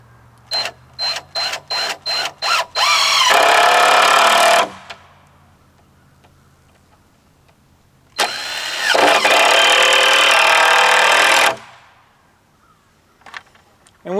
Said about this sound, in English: we'll just run these screws all the way down to the end